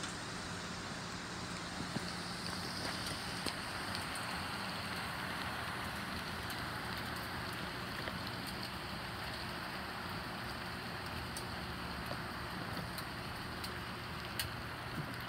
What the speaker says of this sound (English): you can see all the hail down there